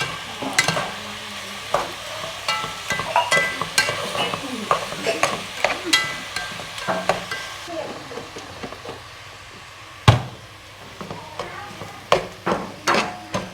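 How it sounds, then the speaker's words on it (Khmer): Beef fried rice is stirred and fried in a thick pot, with irregular scraping and clanking of the utensil against the pot over a soft sizzle, close by, while people talk intermittently. "ឆាបាយនេះគឺសាច់គោច្រើនជាងហើយចាហើយខ្ញុំខ្ជិលយកអាខ្ទះធំយកមកឆាខ្ញុំឆាក្នុងឆ្នាំងហ្នឹង"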